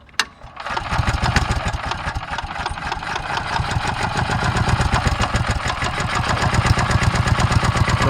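A Predator engine swapped into a Yamaha G1 golf cart starts with a sharp click and settles into a loud, close, steady chugging idle with an even rapid pulse that holds throughout.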